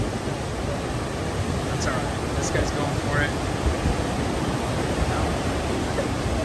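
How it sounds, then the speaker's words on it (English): Ocean waves break and wash steadily onto the beach at Laguna Beach, a loud, continuous broadband roar of surf with someone talking over it. "Got a nice wave coming in."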